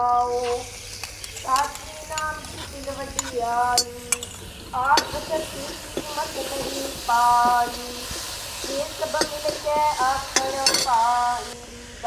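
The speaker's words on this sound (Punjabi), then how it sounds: "ਇਹਨੂੰ ਆਪਾਂ ਹਿਲਾਉਂਗੇ ਹੁਣ ਮੜ ਜਾ 1-2 ਮਿੰਟ ਭੁੰਨੂਗੇ" A spoon stirs aloe vera sabzi being roasted with onion in a pan, giving repeated close metallic scrapes and clinks over a soft sizzle, with faint voices in the background.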